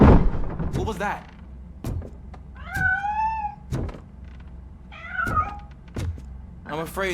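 A cat meows in the video game RoboCop Rogue City, with two drawn-out, wavering meows between dull knocks and thumps.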